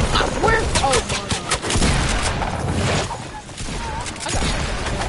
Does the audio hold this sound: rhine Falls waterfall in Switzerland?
no